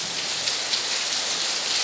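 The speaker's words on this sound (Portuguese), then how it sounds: "olha essa chuva, olha que chuva forte" Heavy rain pours at a house during a strong storm, a loud, unbroken close hiss of downpour with no talking.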